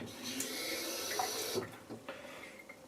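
Water trickles from a tap onto shaving soap, a steady broadband running-water hiss for about one and a half seconds, then a few soft splashes and drips as the flow stops.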